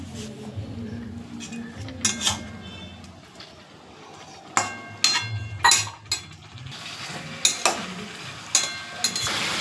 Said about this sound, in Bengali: দেখুন এখন চিকেন হচ্ছে, চিকেন রান্না হচ্ছে।